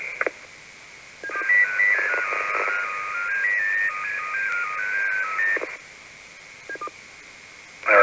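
A long run of DTMF dial tones comes through an amateur radio link, a rapid string of steady beeps lasting several seconds and framed by short radio clicks and bursts of carrier noise.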